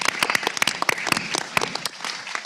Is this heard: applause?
yes